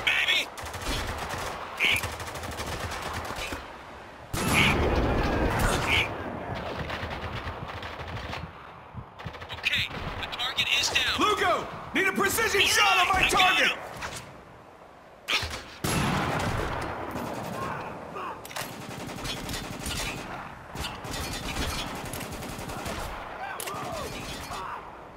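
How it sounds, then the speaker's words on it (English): Heavy automatic gunfire rattles in long loud bursts during a firefight in the video game Spec Ops: The Line, with shouting voices breaking in between volleys. "We're taking some heavy fire here!"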